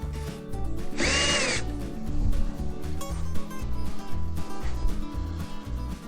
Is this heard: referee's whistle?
no